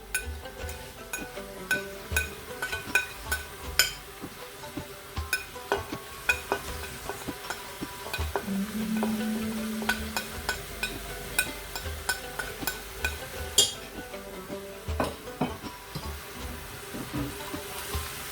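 Chana dal and lauki are stirred with spices in a pan, giving soft scraping spoon strokes and light sizzling with occasional clinks, close and moderately quiet with no voices.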